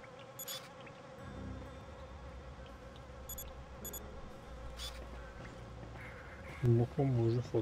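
An insect-like fly buzzes steadily in the video game Beyond Good and Evil 20th Anniversary Edition, a droning hum over game ambience with a few clicks, and a voice briefly speaks near the end.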